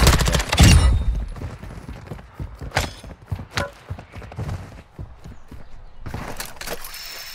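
Sharp gunshots crack in Call of Duty DMZ, a heavy close blast followed by scattered single shots at irregular intervals, some near and some farther off.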